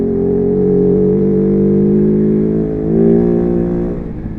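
Kove 450 Rally motorcycle engine droning loudly and steadily while riding off road, close up, with a brief swell in revs near the end before easing off.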